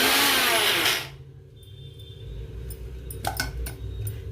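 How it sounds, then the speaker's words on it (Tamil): A kitchen mixer grinder whirs loudly while grinding dry urad dal for sweet vadai, then cuts off after about a second, leaving quiet clinks and faint handling sounds. "தண்ணியே விடாமல் இதை அரைச்சி"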